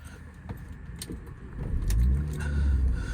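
A 2008 Mini Cooper S R52 convertible with a supercharged engine starts up: a few faint clicks and key jingles, then the engine catches and settles into a steady low idle, close by with no talk.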